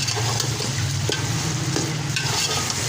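Yogurt mixed with salt and spices is stirred and lightly fried in a cooking pot for chicken Nargisi pulao, producing a continuous close sizzle with soft utensil scrapes scattered throughout.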